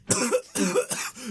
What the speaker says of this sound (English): Who's coughing out there?